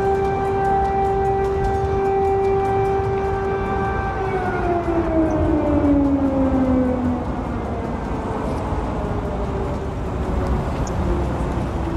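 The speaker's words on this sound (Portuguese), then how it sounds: "as sirenes voltaram a soar" Air raid sirens sound over Kyiv, Ukraine, during the war: a loud, steady mechanical wail with stacked tones that slowly slides down in pitch and fades toward a lower drone, heard alone without talk.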